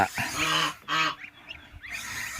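Loud nasal honks from a mother goose near her goslings, a few harsh calls in quick succession close by, with quieter honking in between.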